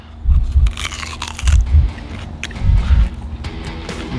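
Several crunchy bites into a giant cookie, each a short close crunch followed by chewing, repeating roughly once a second.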